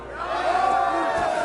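A crowd cheers and shouts at a tournament fight in Kingdom Come: Deliverance II, a sustained roar of voices with whoops rising over it, fairly loud and close.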